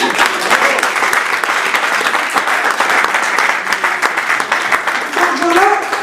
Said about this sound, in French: applaudissez pour nous